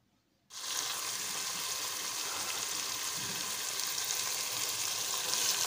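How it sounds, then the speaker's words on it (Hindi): Chicken pieces drop into a hot pan and fry with a sudden, loud, steady hiss that holds evenly from half a second on, close up and with no voices over it. "चिकन को इसमें ऐड करके थोड़ा सा फ्राई करना है"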